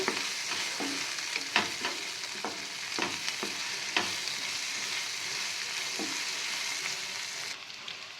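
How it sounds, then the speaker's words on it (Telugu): Onions fry with curry leaves and ginger garlic paste for a peanut curry, giving a dense, steady sizzle of hot oil broken by occasional spoon scrapes and taps against the pan, close and continuous, without speech. "సో చూడండి, ఆనియన్స్ అయితే మంచిగా వేగిపోయినాయి"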